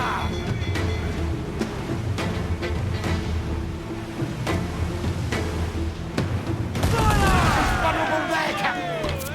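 Ship cannons firing a broadside in the Assassin's Creed IV video game, a string of sharp booming shots spaced across the scene over constant sea and battle noise, building to a louder crashing surge near the end.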